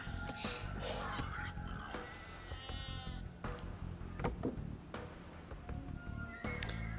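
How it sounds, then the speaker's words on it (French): Sheep bleat repeatedly over a busy electronic soundtrack in Age of Empires II: Definitive Edition, their cries scattered among clicks and other effects. "Donc on ramène les moutons."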